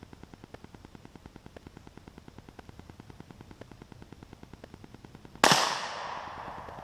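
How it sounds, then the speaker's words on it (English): A single loud, sharp crack of a Marlin Model 60 .22 LR rifle firing into a block of Jello, arriving near the end after a low, steady rhythmic hum, with a bright decaying ring afterward. "First up will be the 22 caliber rifle."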